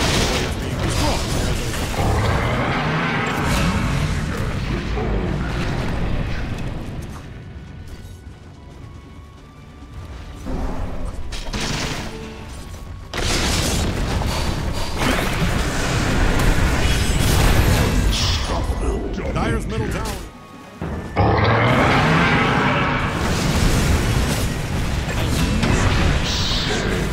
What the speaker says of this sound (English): Dire's middle tower is in trouble the way it's being destroyed